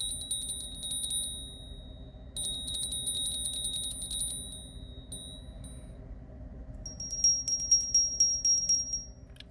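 Bells ring in rapid, tinkling bursts: a steady run of chiming, a brief pause, another sustained stretch, then a louder, brighter flurry near the end, with no talking.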